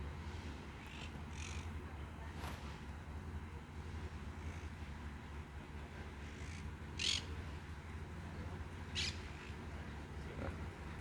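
A seagull calls a few times, its short, thin cries rising faintly above a steady outdoor background hiss and low rumble, with the clearest calls near the end.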